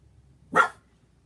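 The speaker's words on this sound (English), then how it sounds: "My dog is going crazy." A small Jack Russell terrier lets out a single sharp bark indoors, close and brief, with near silence before and after.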